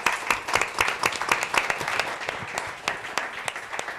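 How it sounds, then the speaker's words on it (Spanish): An audience applauds a panel at a business impact event, with a burst of distinct hand claps spread across the room, sharp individual slaps over a steady clapping bed, with no voices. "por favor un aplauso para ellos"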